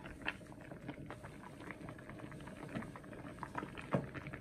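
Vegetable soup for weight loss simmers in a pot, a quiet, steady bubbling and popping with soft liquid patter and no voices.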